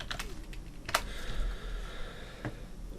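Keys tapped on a computer keyboard while a name is entered in AutoCAD, a quick cluster of clicks with one sharper keystroke near the start and another lone tap toward the end, close and fairly quiet.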